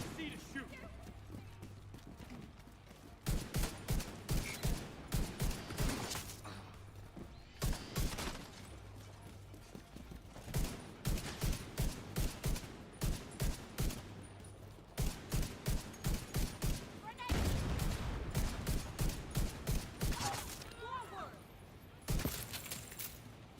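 Gunfire in the First Rogue video game, with bursts of rapid automatic shots and single cracks coming in clusters, close and sharp, between quieter gaps, with a voice talking at times.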